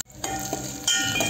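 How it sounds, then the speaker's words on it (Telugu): Curry leaves and onions frying in a pan for tomato carrot rasam give a steady, close sizzle. The hiss swells louder near the end, with no talking. "ఫ్రై అవ్వనిద్దాం."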